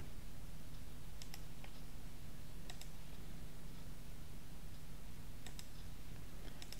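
Computer keys are pressed in small quick clusters of clicks, repeated several times over a steady background hiss, close and moderately faint.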